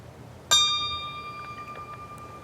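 A memorial bell struck once at a September 11 ceremony in Lakeview, a sharp clear ring that lingers in a long bright shimmering decay, heard alone in a quiet outdoor setting.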